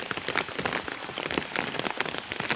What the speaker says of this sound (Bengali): আর দেখতেই পাচ্ছ তোমরা কেমন বৃষ্টি পড়ছে